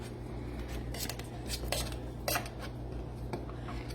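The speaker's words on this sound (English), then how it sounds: "We just mix them all together." Canned corn, including whole kernel corn, is stirred together in a bowl with a utensil, giving a series of close, light scraping and clinking strokes against the bowl, with no voices.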